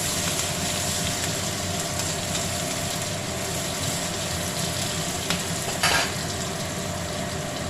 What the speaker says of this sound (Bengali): ওই পেঁয়াজটা দিয়ে কিছুক্ষণ আড়াচাড়া করে যাতে কিছুটা নরম হয়ে আসে পেঁয়াজগুলো